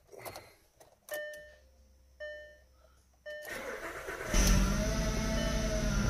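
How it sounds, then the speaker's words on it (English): A 2008 Volkswagen New Beetle starts up: a few chime-like dashboard tones and clicks, then the engine cranks and catches, settling into a steady idle that rises loudly after a brief rev. "We'll go ahead and start the vehicle up."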